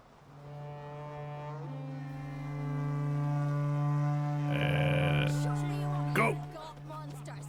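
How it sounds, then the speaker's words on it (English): A deep sustained horn blasts to start an axe-pulling race in The Witcher 3 video game, a long steady tone lasting several seconds with a brief burst of noise near its end. "You'll start when I sound the horn."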